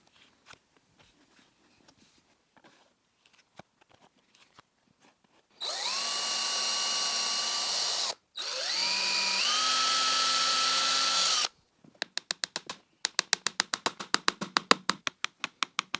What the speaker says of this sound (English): before I use the drill to drill through the holes I did earlier into the lid